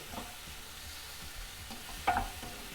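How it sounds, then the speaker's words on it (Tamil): Masala with crushed tomatoes being stirred in a pan for idli masala, with a soft continuous sizzle and faint scraping strokes, one sharper clink near the end. "இப்போ கலக்கும்போது இப்படி கொஞ்சம் தக்காளியை நசுக்கி இந்த மாதிரி கலக்கி போட்டோம்னாக்க"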